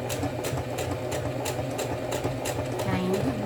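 A sewing machine stitches slowly over wire, a close, steady rhythmic clatter of the needle at about two stitches per second over a continuous motor hum.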